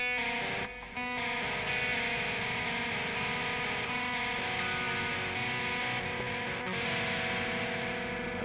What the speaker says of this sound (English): Light distortion on that.